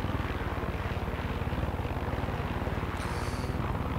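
Helicopter in the video game Far Cry 6, its rotor giving a steady, rapid rhythmic chop with a continuous engine drone throughout, no voices.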